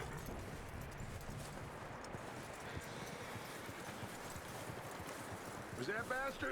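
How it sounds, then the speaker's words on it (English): Horse hooves clip-clopping at a walk while the horse is led on foot in Red Dead Redemption 2, a steady, fairly quiet stream of dull hoof falls against ambient wind, with a voice briefly at the end. "You can lead your horse."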